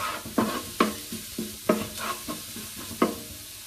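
Oil heating in a pot with garlic for bastilla gives a steady soft sizzle. Sharp, rhythmic stirring scrapes and clicks land about once every half-second, with no voices.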